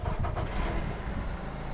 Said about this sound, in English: I'm going to start the engine back here.